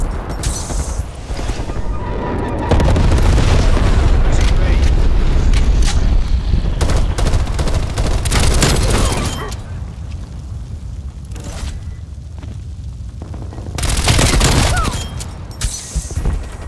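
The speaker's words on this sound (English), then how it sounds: "Enemy napalm strike incoming." Napalm strike explosions in the Call of Duty: Cold War video game, heavy booming blasts and rumbling fire that swell loud, ease off, then surge again near the end, mixed with scattered gunfire.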